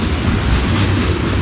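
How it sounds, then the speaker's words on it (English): Florida East Coast Railway train 206 passes at Stuart, a loud, close, continuous rumble and rush of rolling wheels with no talk. "This is FEC train 206."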